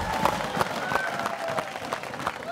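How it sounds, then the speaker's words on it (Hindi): Crowd applause at a kabaddi fan event with star player Rahul Chaudhari, steady clapping mixed with cheering from a lively audience, with voices rising through it. "एक बार जोरदार तालियां तीनों के लिए हो रहे हैं।"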